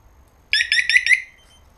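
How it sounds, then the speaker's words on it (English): The alarm on a 2007 Yamaha R1 motorcycle chirps in a quick run of about five bright electronic beeps, close and clear against near silence. "The alarm is in there."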